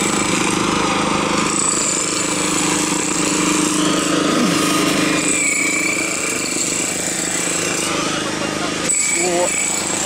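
Construction work with a jackhammer near the Ukraina concert hall in Kharkiv hammers on as a continuous, gritty drone of rapid pounding and engine noise, with voices faintly present over the racket.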